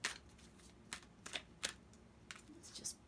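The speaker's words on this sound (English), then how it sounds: "Let's give the cards a good shuffle." A Queen of the Moon oracle card deck is shuffled close up in a quiet room, giving several crisp riffling bursts of card flutter with short pauses between them.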